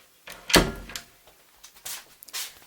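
An indoor door swings shut with one sharp thump close by, followed by a few softer knocks and rustles as it settles in the room.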